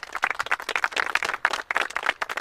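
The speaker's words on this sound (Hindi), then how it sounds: "इन तीनों के लिए जोरदार तालियां होनी चाहिए।" A studio audience on the Pakistani TV show Living on the Edge gives loud, dense applause for three contestants, a sustained burst of clapping with no speech over it.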